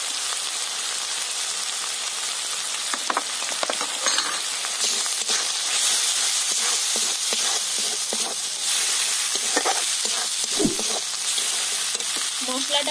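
Chili, turmeric and cumin powders fry in a hot pan, giving a steady close sizzle with bursts of stirring and scraping, and no talking.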